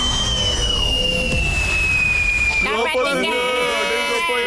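A cartoon Diwali fireworks rocket whistles loudly with a long falling tone, then bursts into a crackling, sparkling explosion; a voice speaks briefly over the start.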